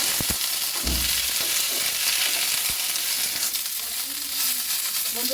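Mixed vegetables and onions fry lightly together in a pan for a chicken soup, making a continuous close sizzle with a few stirring knocks and scrapes.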